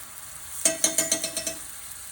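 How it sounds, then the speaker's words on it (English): Ginger garlic paste hitting a hot pan for biryani-style chicken, a sharp sizzling onset followed by a rapid series of stirring scrapes that slow and fade. "what I'm going to do is add the fresh spices, which is a tablespoon of ginger and garlic paste"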